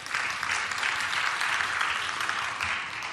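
An audience at a community gathering claps continuously for the whole stretch, a dense, even wash of many hands at moderate distance.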